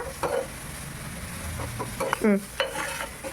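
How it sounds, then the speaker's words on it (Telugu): Curry leaves and green chillies fry and sizzle in hot oil in a pan for fish curry, with a soft continuous crackle and a few scrapes of stirring. "కరివేపాకు ఇవైతే కొంచెం సేపు ఏగాలన్నమాట కొద్దిసేపు వేగినాక"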